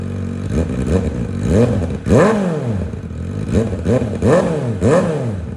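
A Kawasaki Ninja ZX4RR 40th Anniversary motorcycle with its stock exhaust removed revs repeatedly, each loud, raspy blip rising and falling in quick succession close by.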